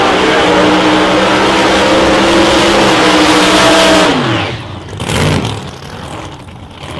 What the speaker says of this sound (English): Spud rolling up into the burnout also